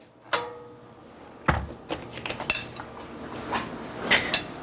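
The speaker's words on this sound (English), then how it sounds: "Let me get a spoon for serving." Someone rummages through metal cutlery to pull out a serving spoon, producing sharp clinks and clatters in irregular bursts, close and moderately loud, with no talking.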